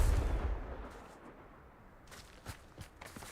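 Confringo fire spell blast in the video game Hogwarts Legacy: a loud low rumbling burst at the start fading into a softer crackle, followed by a few sharp, brief impacts near the end.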